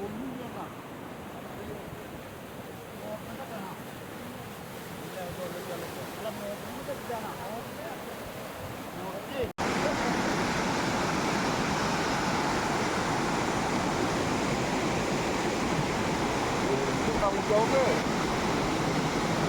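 Rainwater rushes in a steady broadband roar through a breached bund in a paddy field below a motor shed. It sounds softer at first with a faint voice in the background, then jumps abruptly louder and fuller partway through.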